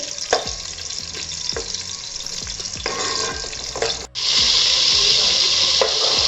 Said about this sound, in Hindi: और इसे अच्छी तरह से भून लेंगे। इसे हमने फ्राई करना है।